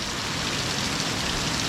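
Heavy rain pours down in a steady, dense hiss that stays loud and unbroken throughout, with no voices.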